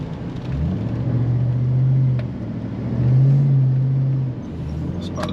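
An 8-cylinder car engine at an auto auction holds a steady low rumble and is revved twice in long, even swells. It is close and loud, with no talking.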